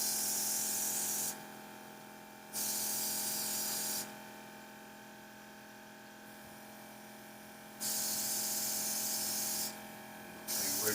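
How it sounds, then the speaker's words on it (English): Hair spray hisses from an aerosol can during a barber lesson, in three short bursts of about a second and a half each, with a steady electric hum underneath and no talking. "Now we're just gonna spray them up."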